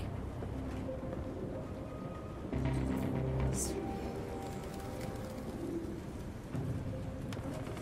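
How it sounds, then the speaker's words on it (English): Pigeons coo softly and repeatedly in low, rounded calls over a steady rain-like hiss in Detroit: Become Human. The birds sound close but quiet. "There's so many freaking birds."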